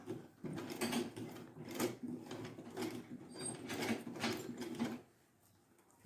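Sewing machine stitching slowly through a thick fan-shaped autogele base, giving a steady mechanical whir with rhythmic clicks and needle thumps for about five seconds before the motor stops and it falls quiet.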